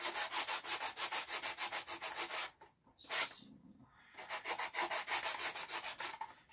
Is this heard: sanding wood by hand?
yes